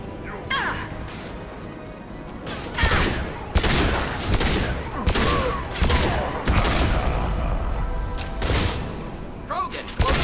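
Heavy weapon firing in the Mass Effect 2 video game: repeated loud crashing blasts and booms burst out at intervals over a dense, noisy battle bed, with bits of game voice in between.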